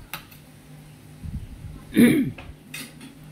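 Embutido ingredients, including blended onion, carrots and raisins, are mixed in a bowl with a few scattered utensil clinks and scrapes against a quiet background, plus a brief throat-clearing sound in the middle.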